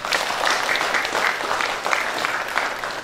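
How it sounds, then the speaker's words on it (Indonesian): Sustained audience applause at a year-end Islamic study gathering held by the Tanggamus regency government, a steady wash of many hands clapping at even loudness throughout. "Tepuk tangan untuk Tanggamus."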